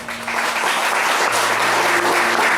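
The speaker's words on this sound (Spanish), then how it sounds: "Den un aplauso." A church congregation applauds during a service, dense steady clapping filling the room for a couple of seconds.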